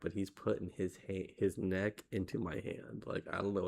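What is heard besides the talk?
None of the usual background noises is heard.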